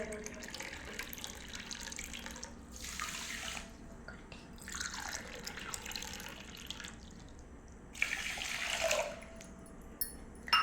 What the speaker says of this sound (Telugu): 2 గ్లాసులు నీళ్లు పోయాలండి